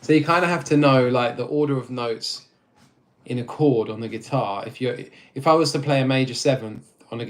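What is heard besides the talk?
None of the usual background noises is heard.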